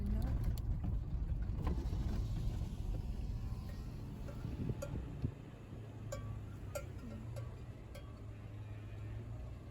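A vehicle jolting along a very bumpy dirt road to a veterinary gate in Mababe, Botswana, with a loud continuous rumble, rattles and knocks from the body, and wind buffeting the microphone.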